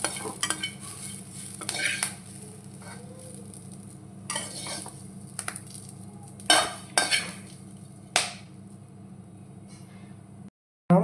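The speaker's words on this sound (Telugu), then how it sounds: "బాగా ఫ్రై చేసుకోవాలి ఇట్లా మునగాకు ఫ్రై అయ్యింది" Drumstick leaves frying in a pan give a soft steady sizzle, broken by repeated scraping strokes of a spoon against the pan as they are stirred, close and moderately loud with no talking.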